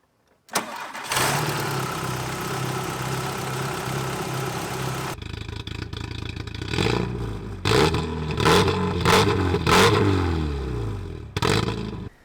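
A Volkswagen Corrado engine cranks briefly and catches, settling into a steady close idle, then rises and falls in several short revs near the end with no talking.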